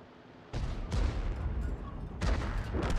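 Heavy artillery fire from an FV3805 tank destroyer in World of Tanks, a booming low report with rumbling follow-up blasts, loud and close over game background noise.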